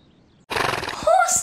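Horses neigh in a loud, bright whinny rising over a burst of broad noise, close and lasting about a second, with a voice-like layer mixed in.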